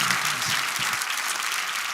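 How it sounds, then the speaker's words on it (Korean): An audience at a Korean church-style political gathering claps together in a dense, steady round of applause, close and loud, with no speech over it. "우리 장로님 박수하겠습니다."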